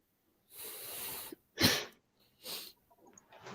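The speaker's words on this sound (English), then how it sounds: "that is my wife coughing." A woman coughs in the background, with a few separate breathy bursts and a sharper, louder one in the middle, then softer trailing sounds, all heard indoors without talk.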